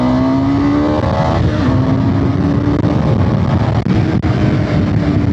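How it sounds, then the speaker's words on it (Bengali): Wind roars steadily past a motorcyclist's open helmet visor while riding, mixed with engine drone whose pitch climbs and shifts as the bike accelerates, loud and unbroken throughout. "আমি কিছু শুনতে পাচ্ছি না, এত হাওয়া শব্দ"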